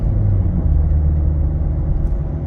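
A 2016 Ford F-250 Super Duty XLT pickup's engine rumbles low and steady under light throttle, a loud close drone with no voices.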